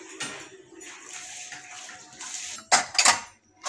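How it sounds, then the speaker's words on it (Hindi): Freshly washed metal dishes and pots are lifted and stacked at home, with scattered light clinks, then a burst of loud metallic clatter and ringing near the end, close by. "तो बर्तन उठा के अब रख रही हूँ ऊपर।"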